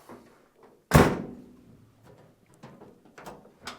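The door of a 1946 Studebaker truck, fitted with a restored door handle, shuts with a single loud, close thunk, followed by faint clicks and quiet handling noises.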